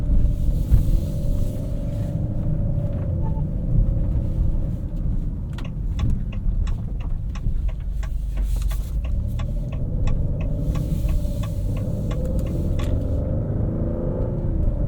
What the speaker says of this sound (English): This exhaust has a really nice burble to it.